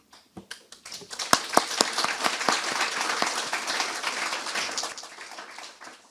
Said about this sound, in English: this is the moment also to applaud the faculty and administrators who have accompanied and guided you on your journey